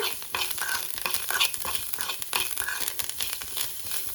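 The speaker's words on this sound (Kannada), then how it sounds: "ಈಗ ಇದನ್ನೇ ಬಿಡ್ಲಿಲ್ದಂಗೆ ಒಂದು 5ರಿಂದ 10 ನಿಮಿಷವರೆಗೂ ಬಾಡಿಸ್ಕೊಳ್ಳೋಣ" Coriander and masala sauté in a pan for crab soup, a close crackling sizzle broken by repeated scraping stirs of a spoon, with no talking.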